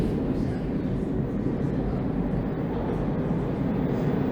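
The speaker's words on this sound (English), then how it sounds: "I think I hear trains coming in from both directions." Trains on Bloor Street in Toronto approach from both directions after a winter storm, a steady low rumble filling the whole span with broadband street and wheel noise.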